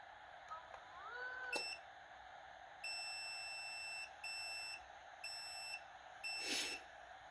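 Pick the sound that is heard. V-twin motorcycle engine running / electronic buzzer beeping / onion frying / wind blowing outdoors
electronic buzzer beeping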